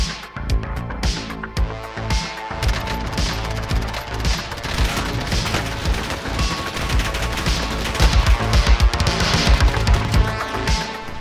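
Rapid MP7 submachine gun fire in Call of Duty: Warzone, loud sustained bursts of automatic shots over a dense low game rumble with crashes and impacts, no voices.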